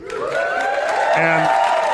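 A comedy club audience at Gotham Comedy Club bursts into cheering and whooping, a loud mix of raised voices and clapping that holds steady for a couple of seconds.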